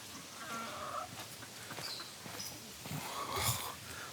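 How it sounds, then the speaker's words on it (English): Chickens kept in cages, including a bright blue ornamental breed, give off faint scattered clucks and calls against steady background noise, with a few sharper calls near the end. "You ever seen that kind of chicken before?"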